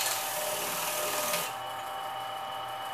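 Fine 400 grit sandpaper rubbing lacquer from a workpiece on a sanding drum, a steady hissing abrasion that drops off partway through, close and fairly quiet.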